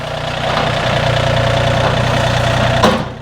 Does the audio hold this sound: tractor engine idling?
yes